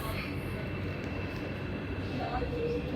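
A Marmaray commuter train pulls into a station at Pendik, a broad steady rumble with rushing noise that stays constant throughout, heard from the platform with faint talk in the background.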